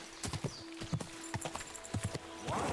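Horse hooves in the video game Kingdom Come: Deliverance II clip-clop in an irregular trot on a hard surface, close and fairly quiet, with a soft whinny-like tone near the end.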